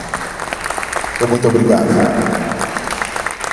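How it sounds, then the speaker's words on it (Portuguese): An audience applauding at an Afro-Brazilian stage event, with broad, steady clapping that swells to fill the room while someone speaks Portuguese over it into a microphone. "Uma salva de palmas"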